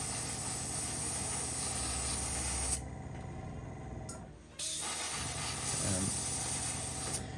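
Airbrush spraying paint onto a small 009 narrow-gauge NGG16 Beyer Garratt model locomotive, a steady close hiss that cuts out briefly twice and resumes, with the spray booth fan switched off.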